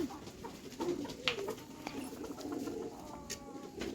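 Pigeons coo softly in a close group, low throaty calls overlapping with faint rustling and a few short chirps.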